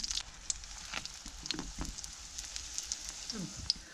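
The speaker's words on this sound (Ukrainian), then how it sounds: "Смажимо коржик на розігрітій олії з обох сторін." Soft, steady sizzle of flatbread frying in hot oil nearby, with faint crackles and pops scattered across it and a quiet voice in the background.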